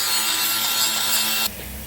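Flap sander and wire wheel cleaning up metal on a Ford Falcon Ghia Turbo: a steady, loud, close abrasive hiss and grind that cuts off abruptly, leaving a quieter hum.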